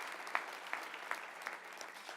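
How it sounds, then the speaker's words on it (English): An audience at an evening awards ceremony applauds steadily for the sponsors, a continuous patter of clapping with no pauses. "Would you all please join me in one more round of applause for all our sponsors tonight."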